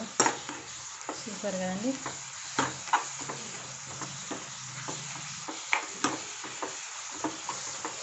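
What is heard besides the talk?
stirring cooking spinach dal with a ladle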